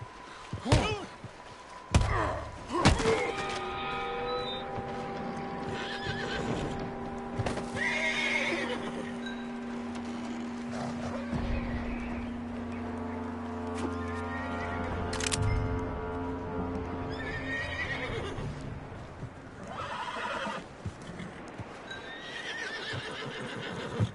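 A horse whinnies loudly and snorts while hooves clop on the ground, with thumps and shuffling around it, close by, in Assassin's Creed Odyssey.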